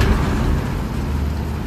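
A train engine in the video game Uncharted: The Lost Legacy gives off a steady, dense low rumble with a broad roar on top, continuous and unbroken throughout.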